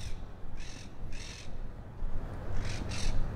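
Harsh, raspy monk parakeet squawks come in short separated bursts, two pairs of calls, somewhat distant above a steady low urban hum in South Ozone Park, New York City.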